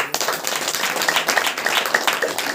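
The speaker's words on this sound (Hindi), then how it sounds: "आइए ताली बजाकर" Congregation at a Hindi Saturday Power Meeting church service clapping together in a fairly regular rhythm, close and lively, with sharp individual claps standing out over the group and no speech.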